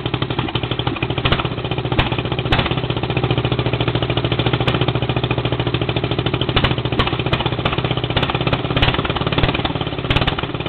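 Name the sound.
engine idling after a cold start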